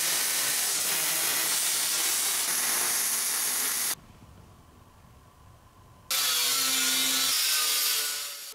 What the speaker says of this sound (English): I'm using a planer to sand and provide the same exact height to all the wooden boards.